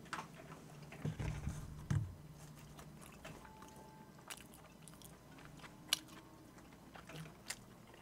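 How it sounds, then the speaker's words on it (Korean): Someone bites into and chews Domino's meat pizza topped with garlic dipping sauce, giving a few soft close bites with faint squishy chewing in a quiet room. "갈릭 디핑 소스를 뿌려서 한번 먹어볼게요"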